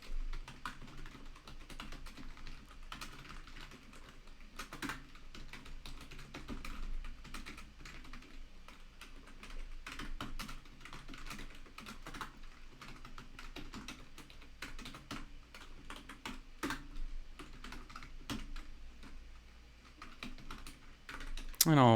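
Close, rapid clicking of a computer keyboard runs throughout as someone types a JavaScript test, the keystrokes uneven in rhythm with short pauses between bursts.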